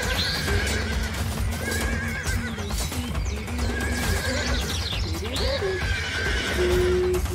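A battle simulation video game where horses whinny and neigh again and again over a bed of galloping hooves and battlefield noise. The sound is dense and continuous, with no voices.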